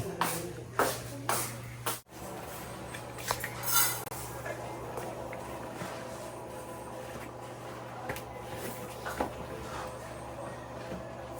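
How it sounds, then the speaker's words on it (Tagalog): Cutlery and pots clink and shuffle while vegetables are cooked for dinner at home, a few louder knocks and scrapes early on over a steady low hum, fairly close and with no talk. "Magluto muna ako ng ating hapunang gulay."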